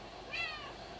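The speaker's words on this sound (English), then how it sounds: "Sorry, that was my cat." A house cat gives a short, single meow, fairly faint and alone against a quiet room background.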